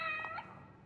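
A cat meows briefly in The Evil Within DLC, a single short, fairly clear mew up close with a faint tail, alone without talk.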